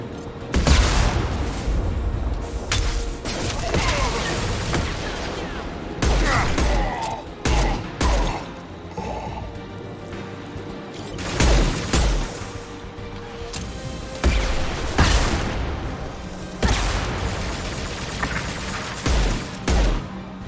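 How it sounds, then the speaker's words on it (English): Rocket explosions and gunfire in the video game Mass Effect 2: repeated booms and bursts of fire scattered across a long stretch of battle, some close and heavy, others softer, with voices occasionally mixed in. "lots of rockets, just everywhere"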